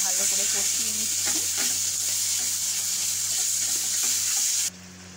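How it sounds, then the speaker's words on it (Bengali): Cumin powder and spice masala stir-fried in a pan for a raw banana kofta curry, giving a steady close sizzle with scraping stirs that stops abruptly near the end. "জিরে গুঁড়ো দিলাম, মশলাটা ভালো করে কষিয়ে নিচ্ছি।"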